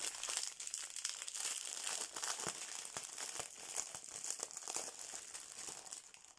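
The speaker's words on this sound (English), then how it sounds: "going to be a bit of a crinkly noise" Continuous close crinkling of plastic packaging from a diamond painting kit, rustling and crackling steadily with small sharp snaps throughout.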